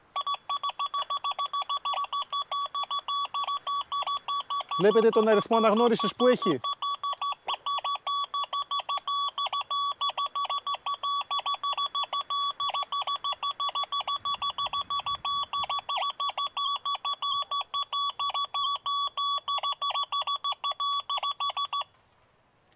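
An XP Deus II metal detector fitted with an HF2 coil gives a steady run of rapid electronic beeps throughout, with a brief louder burst of tones near the start and a short spoken phrase over it.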